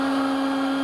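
A router table with a half-round cutter bit, its fence and featherboards guiding wood, gives a loud, steady high whine over a very short stretch.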